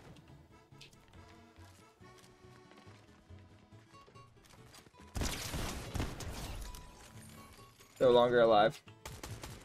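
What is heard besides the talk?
assault rifle gunfire in Fortnite video game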